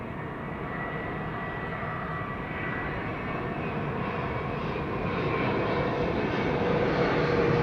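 A KLM Boeing 787-9 Dreamliner arriving at Amsterdam Schiphol produces a steady, broad engine roar that builds slowly louder over several seconds, with no voices over it.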